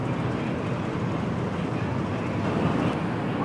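Menoreh passenger train from Semarang to Jakarta Pasar Senen, just arrived on track 3 of a station with two executive cars at the front, gives a steady, loud rumbling roar throughout with no voices.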